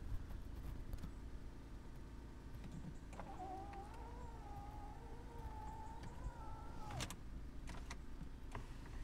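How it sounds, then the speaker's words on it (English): Electric folding roof on a Smart Fortwo Passion Cabriolet running through one stage, a steady motor whine lasting about four seconds that ends with a clunk, heard close over faint background noise. "The roof operates perfectly."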